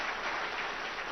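Audience applause at a gathering, a brief dense burst of clapping that is already underway and holds steady throughout.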